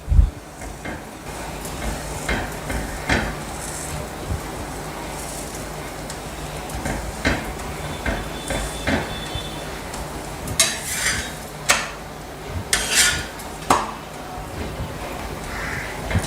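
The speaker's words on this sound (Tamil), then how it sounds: "அதனால் கொஞ்சம் தீ கம்மியாகவே வச்சு சுட்டு எடுக்கணும்." A stuffed peas masala chapati roasts on a pan over a low flame, giving soft scattered clinks and scrapes of a utensil against the pan with a faint, steady background hiss.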